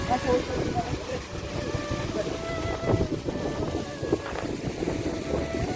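Steady monsoon wind rushing and buffeting across the open hilltop of Raigad fort, with low gusty rumble and bursts of distant chatter underneath.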